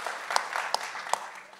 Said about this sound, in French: On peut les applaudir.